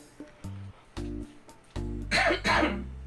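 A person gives a forced, throat-clearing cough up close, with some low musical tones and hum underneath.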